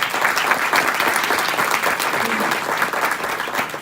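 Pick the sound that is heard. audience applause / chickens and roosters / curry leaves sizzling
audience applause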